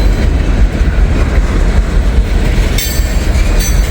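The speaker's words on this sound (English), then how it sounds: "He must have a DPU or 2 because he is pushing up this hill with pretty good speed" A freight train with distributed power units climbs a hill at good speed, a loud, close rumble of rolling cars with a rhythmic clatter of wheels and a brief brighter squeal near the end.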